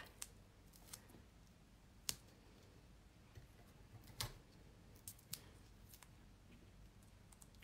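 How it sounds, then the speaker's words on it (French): Scissors snip a small paper square in a mixed-media art journal craft session, a handful of faint, sharp, irregular clicks against a quiet background. "Donc là, je vais couper mon petit carré."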